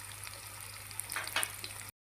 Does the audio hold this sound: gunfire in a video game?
no